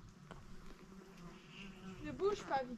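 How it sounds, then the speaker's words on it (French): A wasp buzzes close by during an outdoor walk, its insect drone steady and near, with voices talking faintly around it. "Qu'est-ce qu'il y a? Une guêpe."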